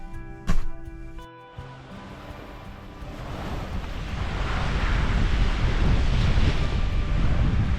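Ocean surf at the beach beside a capsule hotel in Pattaya, a steady broad wash of waves that builds and stays loud, with wind buffeting the microphone and a brief knock near the start.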